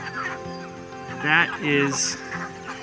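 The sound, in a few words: free range rooster clucking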